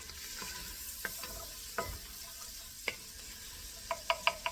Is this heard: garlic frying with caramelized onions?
yes